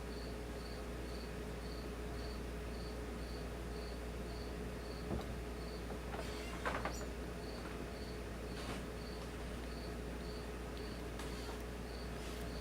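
Crickets chirp in a steady, regular pulse throughout, faint and constant over a low background hum, with a few soft knocks midway.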